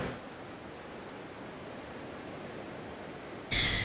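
Steady, soft wash of surf rolling onto Curtain Bluff Beach in Antigua, a deserted Caribbean beach, as an even broadband hiss throughout with a brief sharper gust of noise at the end.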